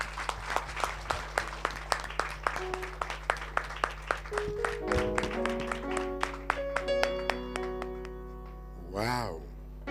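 Church congregation applauding with sharp, rhythmic clapping throughout, accompanied by sustained organ or keyboard tones, rising tonal notes in the second half and a brief vocal cheer near the end.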